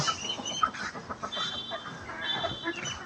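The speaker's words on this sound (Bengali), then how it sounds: "এই যে হচ্ছে আমার মোরগ হারু" A rooster in a backyard flock of native chickens gives soft, low clucks and murmurs amid faint farmyard bird calls, fairly quiet and close.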